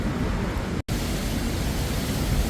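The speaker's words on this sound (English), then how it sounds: "Bear with me with the wind." Outdoor wind buffets a microphone by a river during a storm, a dense, loud, continuous roar with a brief dropout near the start and no talking.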